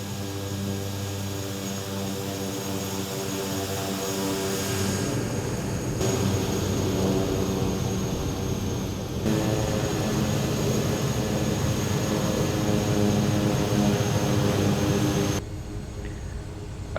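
A Kodiak 100 single-engine propeller plane taxis in Microsoft Flight Simulator 2024, its engine giving a loud, steady droning hum with a constant tonal whine that runs throughout and drops slightly in level near the end.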